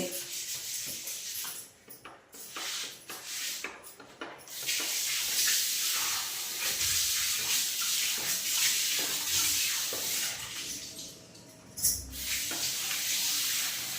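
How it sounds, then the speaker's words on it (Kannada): Water poured over kitchen shelves to wash them, a continuous splashing and trickling rush with scrubbing rubs, close and fairly loud, briefly pausing then resuming. "ನೋಡಿ ಹಂಗೆ ಈ ಶೆಲ್ಫ್ಗಳಿಗೂ ಸ್ವಲ್ಪ ನೀರು ಹಾಕೊಂತಾ ಇದ್ದೀನಿ ತೊಳೆಯೋಕ್ಕೆ."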